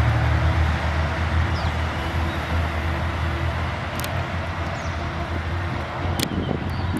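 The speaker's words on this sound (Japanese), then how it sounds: "ディーゼルの爆音" KiHa 189 diesel limited express train idling at Toyooka Station on the San'in Line, a steady loud low engine roar filling the whole stretch, with a couple of brief sharp clanks over it.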